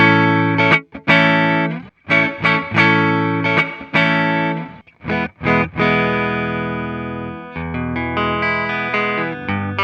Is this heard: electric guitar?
yes